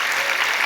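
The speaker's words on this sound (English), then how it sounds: "please, big round of applause" A conference audience claps at a closing session, a brief burst of dense, even applause.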